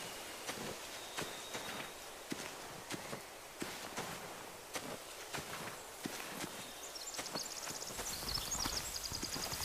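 Horse hooves clip-clop in a steady walking rhythm in The Walking Dead: The Final Season game, fairly quiet, with a faint rustling backdrop and no voices.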